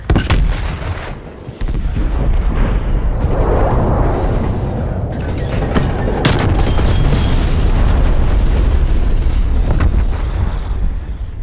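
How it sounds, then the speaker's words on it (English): A Semtex sticky grenade blows up in the shooter game Call of Duty: Black Ops Cold War, a loud, close blast followed by rumbling debris and a second sharp boom amid ongoing battlefield noise. "Semtex grenade."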